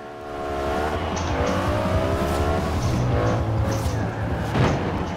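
A retro saloon car in Forza Horizon 4 pulls away through a manual gearbox, its engine climbing in rising sweeps of pitch with gear changes, loud and steady across the whole stretch, no voices over it.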